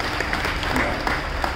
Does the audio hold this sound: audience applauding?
yes